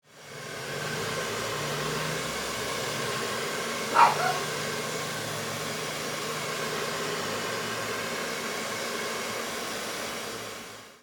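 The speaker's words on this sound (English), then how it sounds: "I needed to use the hair dryer before applying a second coat" A hair dryer blows a constant airy whir, used to dry paint on a bust miniature; it runs steadily and close, with one brief knock partway through.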